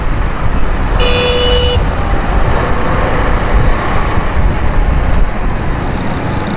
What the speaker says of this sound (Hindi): ट्रैफिक जाम हुआ है, एक्सीडेंट हुआ है